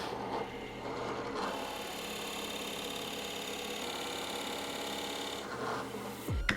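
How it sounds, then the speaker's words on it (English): A 1-inch drill bit bores through the underside of a wooden workpiece held by wooden screw clamps, giving a steady, faint grinding whir that runs for several seconds before a short rise and a sudden stop. "I'm going to drill through this bottom side"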